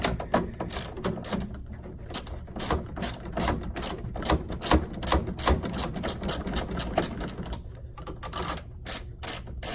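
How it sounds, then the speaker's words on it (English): A ratchet wrench clicks rapidly while backing out a 1/4-inch screw from the plastic bracket at the bottom of a Whirlpool refrigerator, a dense, steady run of close, loud mechanical ticks through the whole stretch. "You remove a 1/4-inch screw holding the plastic bracket on the bottom."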